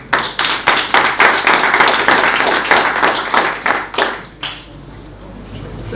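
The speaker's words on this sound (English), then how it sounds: "Big round of applause." An audience at a technical talk claps, with crisp, dense applause for about four seconds that thins into a few scattered claps before fading to room quiet.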